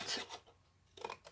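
Scissors cut through paper for a handmade card in two short snips separated by a brief pause, close and quiet.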